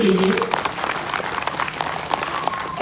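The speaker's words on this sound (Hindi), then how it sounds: "तो ऐसी कंपनी के लिए भी तालियां होनी चाहिए।" Audience applause at a business event, a dense steady clatter of many hands clapping for about three seconds, fairly close and loud, with a voice briefly audible at the start.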